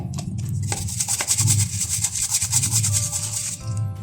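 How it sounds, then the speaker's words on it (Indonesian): A brush scrubs the outer casing of a Miyako wall fan in a steady rubbing, sanding-like swish that runs on close and continuous without pause. "Bagian luar ini bolehlah kamu kuas-kuas seperti ini atau lap dengan lap basah"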